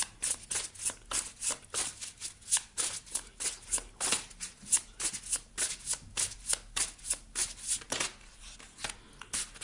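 Playing cards being handled and drawn, giving a fast, continuous run of crisp riffling and flicking close up, with no talk over it.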